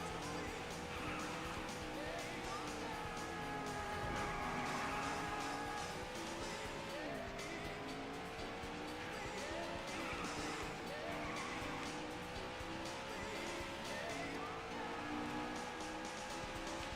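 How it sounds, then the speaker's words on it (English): Daytona USA car racing, an engine droning with rising and falling pitch as the car shifts, and steady road and tire noise throughout, fairly faint and continuous. "No, stop skidding."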